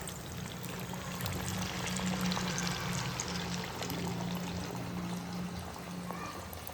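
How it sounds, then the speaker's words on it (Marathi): Sabudana vada shaped patties sizzle in hot oil, a steady dense hiss and bubbling that stays even and close throughout. "इकडे तेल पण आपलं गरम झालेलं आहे, तर आपण याला आता तेलामध्ये तळूयात."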